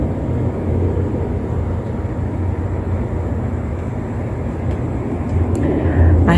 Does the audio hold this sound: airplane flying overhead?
yes